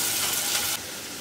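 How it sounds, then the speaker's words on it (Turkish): Chopped onions frying in a pan, a steady close sizzle with a brief louder burst before settling into a quieter, even crackle. "Onları da ekliyorum. Soğanlar hafif pembeleşene kadar kavuracağım."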